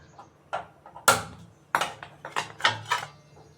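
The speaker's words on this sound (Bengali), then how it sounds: "বসিয়ে দিলাম তাওয়া" A tawa griddle is set down on a home kitchen stove, with a series of sharp metallic clanks and knocks, close and distinct, separated by brief quiet gaps.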